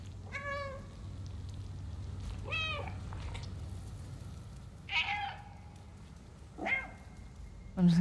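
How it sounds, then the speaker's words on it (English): Several distinct cat meows from the video game Stray, spaced across the stretch with pauses between them, moderately loud over a steady low game hum, with a brief spoken exclamation. "I'm just gonna keep meowing just all day,"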